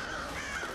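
Birds caw in the Thief video game, a single short harsh crow caw heard clearly over a faint ambient background.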